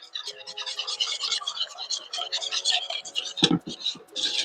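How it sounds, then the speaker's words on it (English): A whisk beats lemon juice, lemon zest and vanilla in a bowl for lemon mochi cookies, with a rapid, close ticking and scraping under a speaking voice. "And then I'm going to whisk it together."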